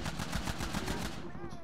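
Rapid gunfire from the video game Red Dead Redemption rattles in a fast, evenly spaced burst of shots that carries through the whole brief moment.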